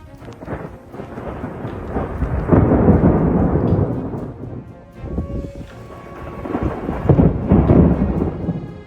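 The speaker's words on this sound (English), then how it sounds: "Lightning sliced through the Texas sky, waking the entire region with its deafening roar." Rumbling thunder from a Texas lightning storm rolls in two long, loud swells over steady rain and wind noise.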